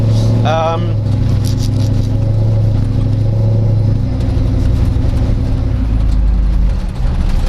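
A car exhaust drones with a loud, steady low rumble throughout, and a voice whoops briefly near the start.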